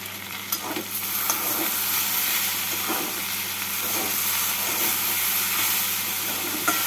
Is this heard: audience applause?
no